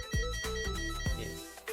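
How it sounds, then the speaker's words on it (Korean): Wire tracker probe in scan mode sweeping near a LAN cable, giving a warbling electronic tone with repeated rising chirps that swell and fade over a couple of seconds, close and fairly loud with no talking. "탐지 시그널이 점점 커지면서 소리가 막 울리게 됩니다."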